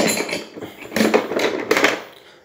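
A small Robust hammer from an electrician's household tool kit is picked up and handled, giving a few clinks and metallic knocks against tools in a short irregular cluster, close and fairly loud.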